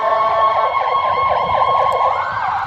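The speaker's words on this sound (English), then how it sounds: "It's sirens going off every minute here." A loud wailing siren sweeps up and down continuously, close by, with a pitch shift near the end as it changes tone.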